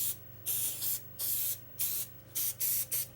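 An aerosol spray can is sprayed onto a piece of miniature wargaming terrain in six short hissing bursts of varying length, close and clear, with no talking.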